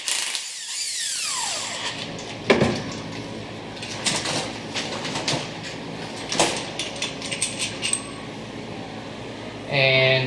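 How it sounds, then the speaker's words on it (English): A power tool whirs and ratchets as carrier bolts are pulled out one at a time, with metallic clinks and short bursts spaced across the span, fairly close. "I'll then pull the carrier bolts one at a time now that I've verified."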